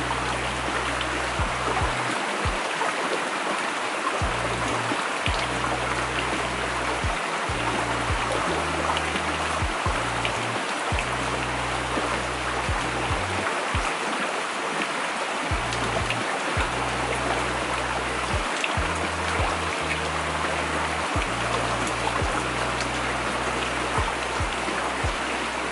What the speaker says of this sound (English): This is the warm water going inside the chalice.